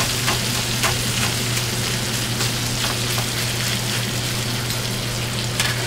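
Frozen hash browns and bacon fry on a hot griddle with olive oil, a steady loud sizzle that stays dense and continuous from start to finish, with a low hum underneath and no talking.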